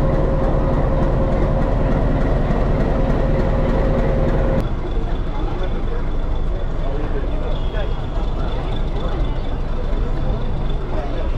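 A YDM4 diesel locomotive on the Nilgiri Mountain Railway near Coonoor rumbles steadily along with a loud, continuous engine drone and rail noise; the tone drops abruptly partway through as the train keeps running.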